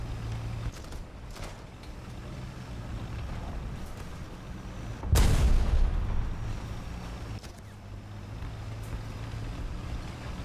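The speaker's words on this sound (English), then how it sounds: "Artillery strike your sector." Artillery strike in a tank video game: a single loud, heavy boom near the middle, rising out of a steady low rumble of engine and wind-like ambience, with a few fainter thuds around it.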